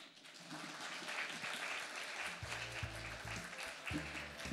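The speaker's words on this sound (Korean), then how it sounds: "발표를 이어가 주신 이정치 차장님께 다시 한번 큰 박수 부탁드리겠습니다" Audience applause at an electronic document industry event in a hall, following a case presentation; steady, dense clapping from a seated crowd lasting throughout, with some low background tones underneath.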